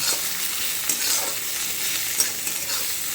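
Fried onions and crushed garlic being stirred in a little oil in a pan, a dense continuous hiss of sizzling with soft scraping of the spoon, close and steady with no voices.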